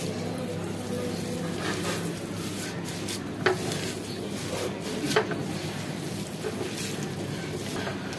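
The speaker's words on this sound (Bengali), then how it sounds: "আবারও সবকিছু মাখিয়ে নিচ্ছি।" Paneer being stirred into cheesy malai chicken in a pan: a steady low sizzle throughout, broken by a couple of faint utensil scrapes and taps.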